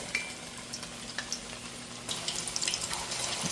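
Jerk meatballs frying in a pot over medium heat, a faint, steady sizzle with light clinks and stirring that grows a bit louder partway through.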